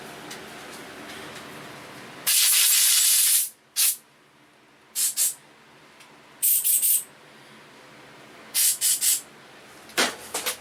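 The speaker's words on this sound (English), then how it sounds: "Noise alert, I'm going to blow some more dirt, or blow some more air." Compressed air blows dirt off the carburetor of a Toro lawnmower in short, loud hissing bursts: one long blast followed by several shorter puffs at irregular intervals, close by, with no talking.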